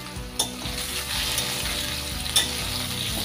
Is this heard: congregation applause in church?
no